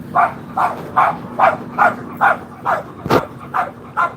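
A dog barks repeatedly in a steady, evenly spaced rhythm, about ten sharp barks close by and fairly loud, with no talking.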